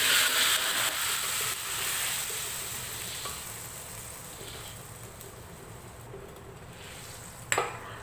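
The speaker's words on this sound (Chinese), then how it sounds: "把一碗酱汁再搅它几下" Sauce being stirred in a bowl in a kitchen, soft scraping and swishing strokes under a steady sizzle of frying, with a sharp clink of utensil against the bowl near the end and no voices.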